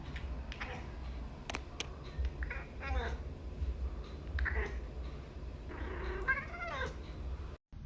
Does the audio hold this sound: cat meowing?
yes